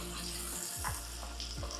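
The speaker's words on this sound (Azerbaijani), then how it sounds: "Soğanımızı tavaya yayırıq." Onions spread in a pan with butter sizzle and fry steadily, a dense continuous hiss with occasional soft pops and scrapes, close and alone without talk.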